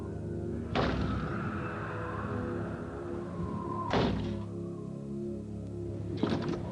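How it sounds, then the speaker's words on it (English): A balcony door bangs during a violent storm: three heavy thuds land a few seconds apart over a constant low wind rumble. "The balcony door has swung open with a gush."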